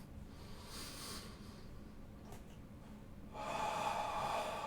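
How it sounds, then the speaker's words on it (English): Deep yoga breathing, slow audible inhales and exhales close to the microphone, soft and breathy, with a louder rushing breath toward the end. "Breathing into the belly first, then into your chest, and then releasing again"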